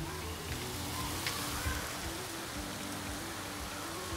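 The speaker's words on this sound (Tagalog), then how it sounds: "Ang lakas ng ulan." Steady, dense downpour of heavy rain in Singapore hissing continuously across the whole stretch, with no pauses and no voices.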